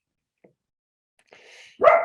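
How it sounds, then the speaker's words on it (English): A dog barks from another room, first as a faint muffled sound and then as one short, sharper bark near the end. "I have dogs in the background"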